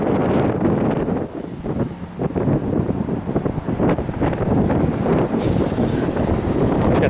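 Cold wind gusts roar steadily across a microphone outdoors beside a 1965 Ford Falcon Sprint, a dense low rumble with buffeting dips, loud throughout.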